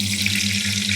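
Garlic fries in a pan with a steady, close sizzle over a low constant hum, and no one speaks.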